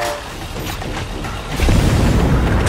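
A bomb explodes in the shooter game Borderlands: The Pre-Sequel, a broad booming blast that swells into a loud, sustained low rumble over dense game noise.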